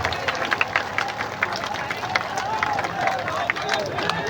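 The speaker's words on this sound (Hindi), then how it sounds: "मैं एक बार चाहूँगा कि सब लोग ताली बजाकर स्वागत कीजिए" A crowd claps steadily to welcome Manoj Bharti at a political gathering in Bihar, with dense, continuous applause and faint murmuring voices mixed in throughout.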